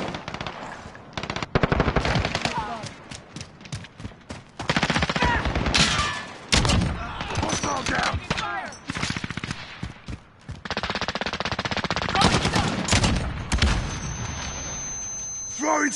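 Dense Call of Duty gunfire plays almost throughout, with long rattling automatic bursts and sharp shots, loud and close, broken only by brief gaps.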